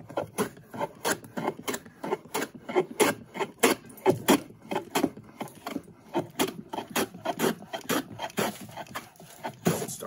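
Hand plane shaving green wood on a Roman workbench: a steady series of sharp rasping strokes, roughly two per second, close and crisp, with light scraping between passes.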